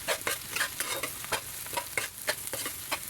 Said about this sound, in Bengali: পেঁয়াজ আর মরিচটা ভালোভাবে ভেজে নেব যতক্ষণ একটু গাঢ় হয়ে আসছে।